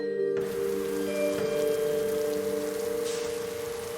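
Steady rain falling on a rainy night, a continuous soft patter with light tapping under a sustained low droning tone, with no talk.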